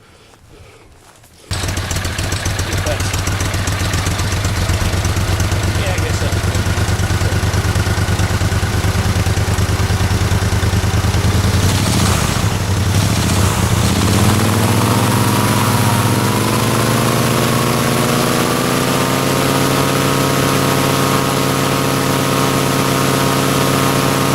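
A warm Generac engine fitted with a new header starts after a short silence and settles into a steady, loud idle, its even drone and clatter running alone to the end with a slight shift in tone midway.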